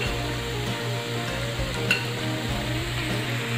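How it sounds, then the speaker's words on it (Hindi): Continuous sizzling of boiled basmati rice frying on a tawa for pulao, with soft scraping and stirring, close and steady throughout. "अभी हम चावल को अच्छे से मिक्स कर लेते हैं।"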